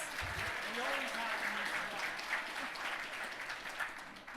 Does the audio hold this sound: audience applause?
yes